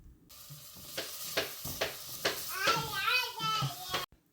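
A 13-month-old baby girl babbles and coos in short rising and falling bursts near the microphone, with quiet kitchen background under her voice.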